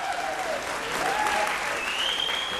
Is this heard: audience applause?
yes